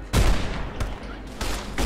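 Gunfire in Fallout New Vegas played in VR: several close, sharp shots in quick succession, each with a short booming tail.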